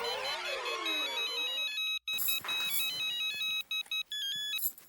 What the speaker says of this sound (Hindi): किसी और का भी फोन बज रहा है।